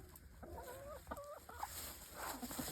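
Chickens in a farm coop on fresh straw, clucking in short bursts close by, with several distinct cackling calls over quiet background rustling.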